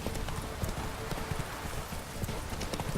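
A horse trots along in the video game The Witcher 3, its hooves clip-clopping in a steady, close rhythm over a constant ambient bed, with a faint voice in the background.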